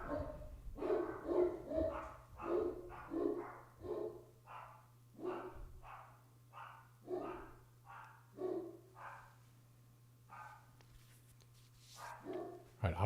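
Dogs bark in a repeated series of sharp woofs, roughly one or two per second, at a moderate distance over a steady low hum, then fall quiet before a last few yips.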